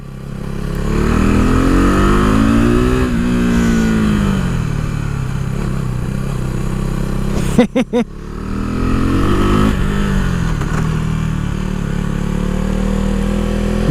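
A KTM RC390 sport bike rides hard through corners, its single-cylinder engine droning loudly and rising and falling in pitch with gear changes, with a brief clattering burst midway.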